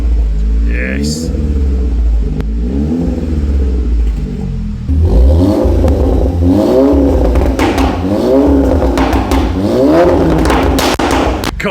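Audi TT with a custom valved quad exhaust revving repeatedly nearby, rising and falling engine sweeps that turn louder and harsher partway through, with some speech around it.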